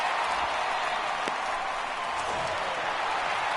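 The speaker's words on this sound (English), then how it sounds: "the home crowd is loving it" Home crowd in the baseball video game MLB The Show 18 cheers and applauds in the ninth inning, a steady, broad wash of stadium crowd noise that holds at an even level throughout without a clear break.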